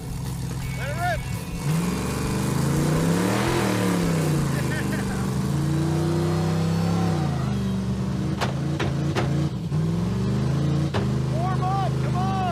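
1975 Ford Ranchero drag truck engine revving loudly and steadily at close range, its pitch rising and falling through several revs, with people talking over it.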